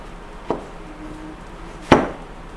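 A knife strikes a cutting board twice while tomato is finely chopped for a simple ragout, two sharp, isolated chops about a second and a half apart, close by, with quiet room tone between.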